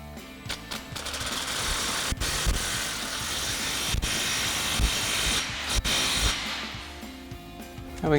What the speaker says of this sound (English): We'll go ahead and tighten this one down again with our 15mm socket.